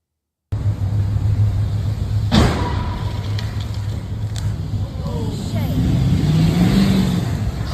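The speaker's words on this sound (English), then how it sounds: "then you hear the tire spinning and his engine revving" After a short silence, a car engine roars and revs with a churning rumble of spinning tires, a sharp impact-like burst from a crash near the start, loud and close.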